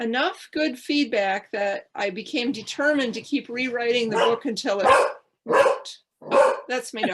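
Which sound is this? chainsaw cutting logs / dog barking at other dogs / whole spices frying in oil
dog barking at other dogs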